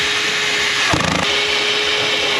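A power tool runs nonstop, fastening the nut and bolt back onto a Kia Stinger, giving a loud, steady motor whine with a brief rattling surge partway through.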